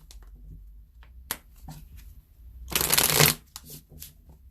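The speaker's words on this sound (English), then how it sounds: "can I do 3 shuffles here?" Tarot cards being shuffled up close: soft scattered flicks, then one loud riffling burst in the middle, followed by a few lighter taps.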